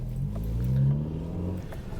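A Nissan Micra K11 with a changed exhaust pulls away, its engine note rising then easing back in a short, close, throaty rev over low rumble.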